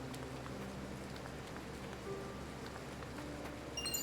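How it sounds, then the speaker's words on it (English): Rain falling in the Triangle Strategy video game, a soft steady patter under faint background music, with a few tones near the end. "I doubt the rain will let up anytime soon."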